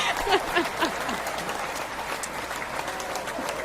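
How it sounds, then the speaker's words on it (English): Audience applause at a talk, a moderate patter of clapping that starts alongside a brief voice and then thins into scattered claps. "I think that deserves applause."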